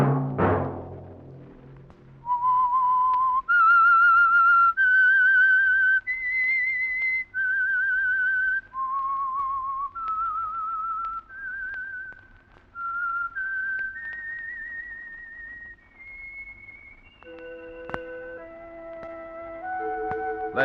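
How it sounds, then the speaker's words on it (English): A lone whistled theme melody serving as the signal for The Whistler radio program, a sequence of clear sustained notes rising and falling over about eighteen seconds, loud and close with a faint background underneath. "Let that whistle be your signal for the Signal Oil program, The Whistler, each Wednesday night at the same time."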